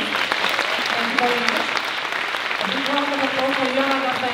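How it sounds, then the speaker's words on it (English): An audience at a conference at Avenor College gives warm, steady applause for an ambassador, while a voice speaks over the clapping. "please let's applaud him again"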